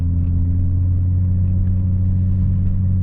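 BMW 730d E38, 184 hp diesel with a straight pipe exhaust, driven through the city: a loud, deep, steady droning rumble sits close and unchanging throughout.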